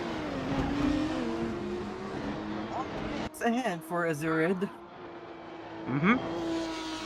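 Race cars engines whine through shifts and passes at Mandalika in a Formula Hololive racing video game, rising and falling in pitch with a brief sharp swell near the end, heard under continuous commentary.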